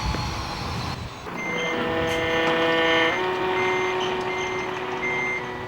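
A truck reverses with its warning beeper sounding, a loud steady series of evenly spaced electronic beeps over a low engine rumble, close by with no talking.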